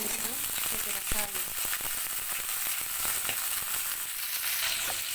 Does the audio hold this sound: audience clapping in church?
no